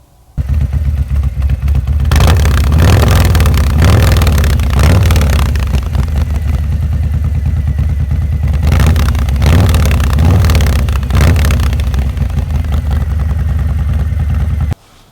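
A loud, throaty Harley-Davidson Milwaukee-Eight touring motorcycle with a Python Rayzer aftermarket exhaust idles and revs repeatedly, with several sharp throttle blips rising and falling, running steadily close by.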